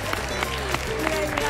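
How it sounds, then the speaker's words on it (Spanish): Applause from a television studio audience honoring a station department, a steady dense clapping wash with a low hum beneath and a few sharper claps standing out. "Un aplauso, un aplauso al departamento."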